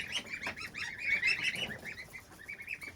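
Goslings raised at home peep continuously in a rapid, high chirping chorus, close and fairly loud, with no voices.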